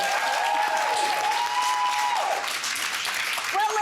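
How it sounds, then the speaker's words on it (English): A studio audience at a talk show applauds continuously at moderate volume, with cheering voices and a presenter speaking over the clapping. "this audience, a round of applause for you."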